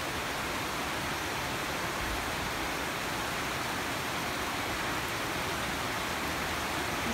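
Heavy rain pours steadily in Dumaguete, a dense, even hiss that stays loud and unbroken from start to finish with no voices.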